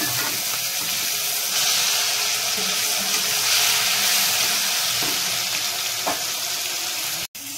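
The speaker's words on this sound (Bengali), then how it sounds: "বন্ধুরা, এবার আমি মাছটা ভেজে নিচ্ছি।" Koi fish frying in hot oil with tamarind in a home kitchen, a steady dense sizzle holding close and loud throughout, with faint clinks of turning the fish and no talk.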